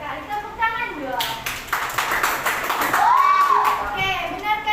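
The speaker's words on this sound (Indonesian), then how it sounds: "Tepuk tangan dong." Children in a classroom applaud together in a short burst of mixed clapping, with kids' voices chattering and calling out over and around the claps.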